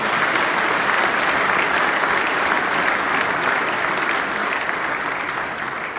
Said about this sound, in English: Another hand clap to the Lord.